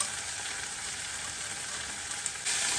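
Fenugreek leaves frying in oil in a pan on low heat make a steady, even sizzle and crackle throughout, close and moderately loud. Near the end the hiss brightens slightly.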